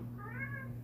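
A cat in a crafting and building video game gives one short, clear meow over a steady low in-game drone.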